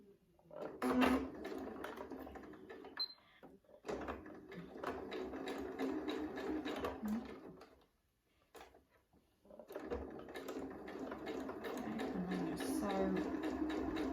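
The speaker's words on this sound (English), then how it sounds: "I'm going to sew a few stitches reverse and then keep going" Domestic sewing machine stitching through quilt fabric for a sawtooth star quilt top, running in steady rhythmic bursts with a brief pause before resuming, close and fairly loud.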